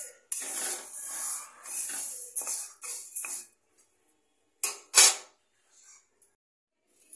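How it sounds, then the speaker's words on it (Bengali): Moong dal is dry-roasted in a dry pan (kadai) and stirred, making intermittent scraping and rustling strokes. The strokes come in bursts and then trail into quiet, with no voices heard. "তো এই মুগ ডালটা আমি শুকনো খোলায় নেড়ে নিয়েছি"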